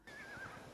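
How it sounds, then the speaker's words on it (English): A horse gives a short, high whinny on screen in a fantasy TV drama episode, a single clear neigh lasting under a second and heard on its own without talk. "Horse! Horse!"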